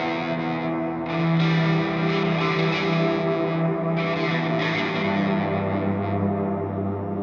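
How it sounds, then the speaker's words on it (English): Electric guitar chords played through a combined distortion and reverb pedal, heavily saturated and sustained with washy echo tails, continuous and loud with no talking. "So you have this distortion and reverb together"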